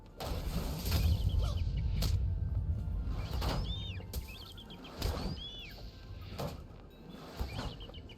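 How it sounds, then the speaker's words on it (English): Short chirping bird calls ring out repeatedly in Lord of the Rings Online over a steady ambient bed, with sharp transient clicks and thumps at intervals and no speech. "Oh, bird."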